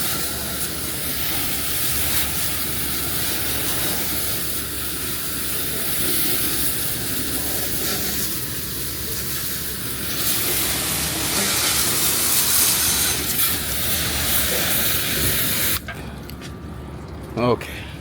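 A pressure sprayer hisses steadily as wash is sprayed onto the frame of a 2016 GMC Yukon Denali, a continuous close spray that cuts off near the end.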